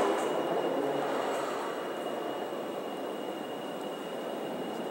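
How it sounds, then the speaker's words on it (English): Ambient rumble at a Metrolink Red Line station: a steady, fairly loud broadband hum and whoosh from passing trains, fading slightly over a few seconds, with no one speaking. "Here's the station for the Red Line."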